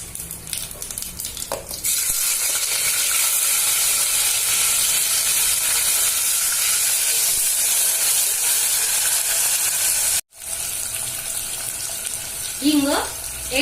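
Chopped onions drop into hot oil with cumin seeds for an egg biryani. A loud, steady hiss and crackle starts after a brief lead-in, holds evenly, breaks for a moment, then resumes.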